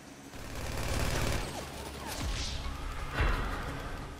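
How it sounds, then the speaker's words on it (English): Regular SMG fire in GTA V: rapid bursts of close gunfire rattle over dense game noise, with a couple of sharper cracking shots standing out toward the end. "Just a regular SMG."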